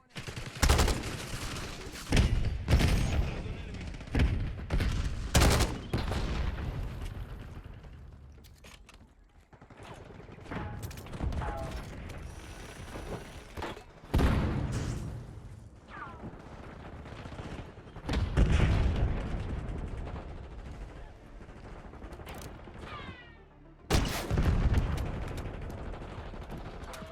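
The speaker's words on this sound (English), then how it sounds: "Frag going in." Constant bursts of rapid gunfire in a Call of Duty: Black Ops 6 firefight, with a thrown frag grenade exploding in a heavy boom amid the shooting, loud and close, with brief pauses between volleys.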